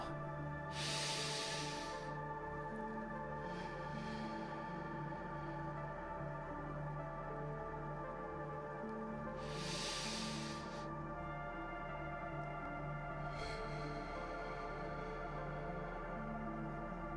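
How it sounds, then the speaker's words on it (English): Slow, deep breaths drawn in through the nose and let out, with three long airy swells spread several seconds apart over a steady low hum, as in a guided meditation session. "take 3 deep breaths in through your nose, hold for a moment, and exhale"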